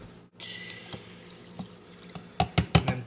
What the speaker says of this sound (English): And then 1 cup of regular water.